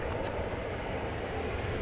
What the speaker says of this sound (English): coming in now from Shanghai. Tis a Dreamliner